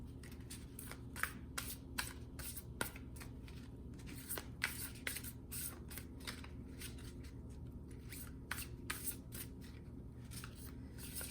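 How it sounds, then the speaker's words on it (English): Tarot cards are shuffled through a reading, a long series of light, crisp card slaps and riffles at an irregular rhythm over a faint steady room hum. The sound is close but quiet, with no voices. "Cards be flying everywhere."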